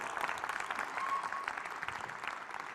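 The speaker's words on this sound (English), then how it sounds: "So if you could please just give them a big cheer" An audience applauds steadily at a business talk on growing customer lifetime value, a dense wash of clapping hands throughout with no cheering voices standing out.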